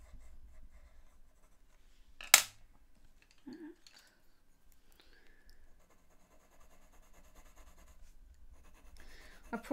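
Red pencil or pastel drawing on loose, untaped paper, heard as faint scratchy strokes throughout, with one sharp louder scrape near the middle and a few soft rustles.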